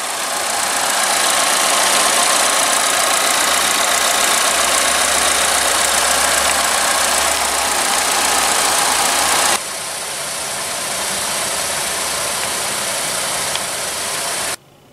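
A 2015 Buick Lacrosse with a 2.4-liter four-cylinder engine idling in a steady, broad hum and hiss that drops slightly in level partway through before cutting off at the end.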